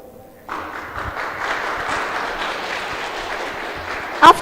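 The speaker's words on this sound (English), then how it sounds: "Big applause for them." An audience applauds the presenters Sebastian and Joshua at a school exhibition, a steady wash of clapping from a crowd that starts abruptly after a brief quiet and holds evenly to the end.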